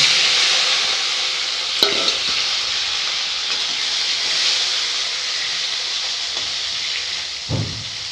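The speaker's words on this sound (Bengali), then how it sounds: "বেগুনগুলো ভেজে নেব" Steady hiss of eggplant frying in hot oil, with a few clinks of a utensil and brief stirring scrapes.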